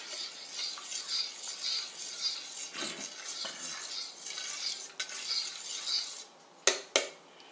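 A spoon scrapes and rubs steadily through a scrambled eggs and sausage mixture in a kitchen bowl, a continuous close stirring with a few sharper clinks near the end.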